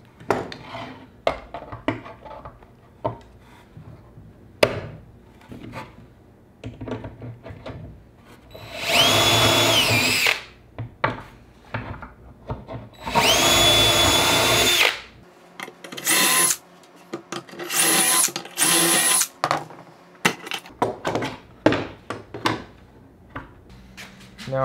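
A power drill drives pocket-hole screws to fasten a brace into a custom cabinet, whirring in several loud bursts separated by clanks and taps of wood and hardware.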